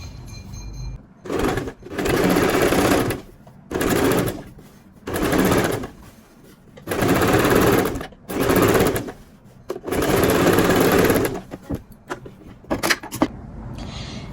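A sewing machine stitches the lining of a men's trouser side pocket in short bursts, about seven runs of rapid whirring separated by brief pauses, then a few quick clicks at the end.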